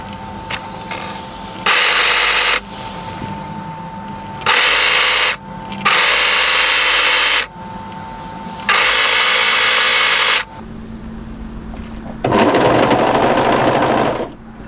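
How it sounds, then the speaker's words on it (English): An overlocker stitches the curved bottom edge of a knit raglan swing sweater piece, its motor whirring loudly in about five steady bursts with short pauses between runs, close by. "overlock the entire bottom edge of this piece"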